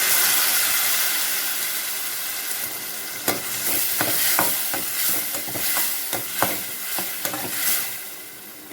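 Ground tomato poured into shallots sautéing in a hot pan for a green mochai bean kuzhambu, giving a steady close sizzle and hiss with repeated sharp scraping and stirring strokes in the second half.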